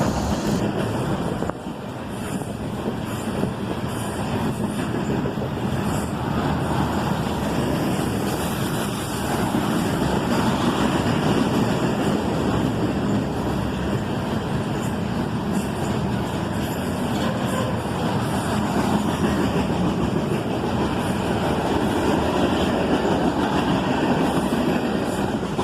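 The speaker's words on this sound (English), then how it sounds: "A pair of ES44 ACHs leading a southbound manifest train, starting off with the daily steel slabs out of Dearborn" A CSX southbound manifest freight train led by two ES44AC locomotives, hauling steel slabs out of Dearborn, Michigan, rumbles past in a continuous, loud, dense roar of wheels and cars that holds steady throughout with no voices.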